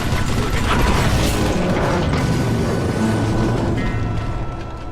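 Crank-operated chain gun cranking in a game, a loud continuous mechanical clatter of ratcheting gears and creaks running steadily for the whole stretch without any voices.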